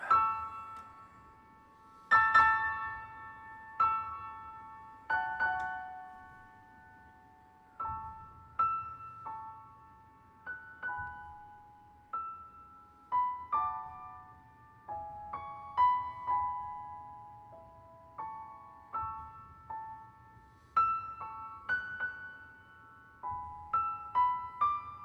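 Slow orchestral passage presenting the grail motif from the prelude to Wagner's Lohengrin, with sustained tones swelling and fading in soft phrases, fairly quiet and without talk.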